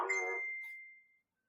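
A phone notification chime rings out alone, one bright tone with a short attack that holds and fades over about a second, close and clear with no talk around it.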